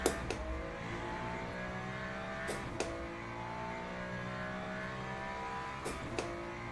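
A race car in the Le Mans Ultimate racing sim holds a steady high-revving engine whine, gear shifts and brief pitch jumps through a fast corner, loud and continuous with no talking.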